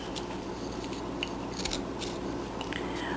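Scissors snip at a reindeer figure's neck, trimming the underside with a run of small crisp cuts over a steady background hum, close and fairly quiet.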